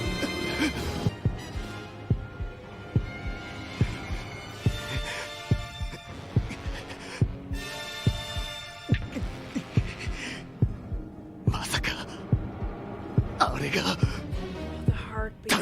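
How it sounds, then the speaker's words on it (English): Heartbeat sound effect in a One Piece anime episode, a steady throbbing pulse of regular thumps layered under swelling dramatic music and voices. "The heartbeat."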